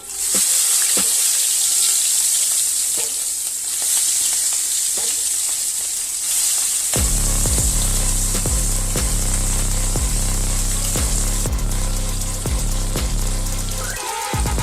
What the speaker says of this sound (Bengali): তেলটা গরম হয়ে গেছে, এবার আমি যে চিংড়িটা মেখে রেখেছিলাম নুন হলুদ দিয়ে, সেটা আমি দিয়ে ভেজে নেব।